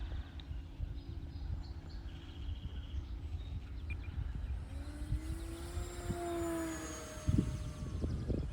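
An E-Flite Piper Cherokee RC model plane flies at about half throttle, its steady electric motor whine shifting in pitch as it passes, fairly faint against outdoor ambience with some wind buffeting near the end.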